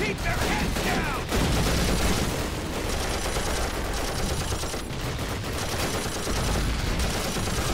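Mounted machine gun in Call of Duty: United Offensive rattles in long sustained bursts, loud and near, nearly unbroken for several seconds with brief pauses, and a voice talks over the firing.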